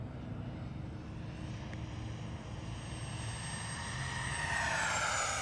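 An FMS Yak 130 V2 70mm RC jet makes a full-throttle speed pass, a steady roaring whine with a rising hiss that swells louder toward the end as the jet approaches, with no talking.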